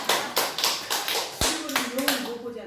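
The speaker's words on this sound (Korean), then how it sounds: "그냥 짧게 박수해 줘." Short, brisk round of clapping from a church congregation during a Sunday morning worship service, a quick burst of hand claps in a large room, overlapped and followed by a voice speaking.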